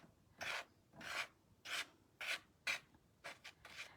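A spatula working metallic pigment paste on a surface, heard as a series of soft, close scraping strokes in an uneven rhythm, quiet overall.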